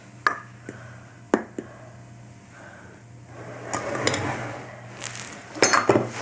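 A half-cup measuring cup scoops flour for soft white bread: a few sharp clinks of the cup against a bowl, soft scraping and rustling, then a cluster of clattering knocks near the end, all close and quiet.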